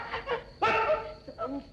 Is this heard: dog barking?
yes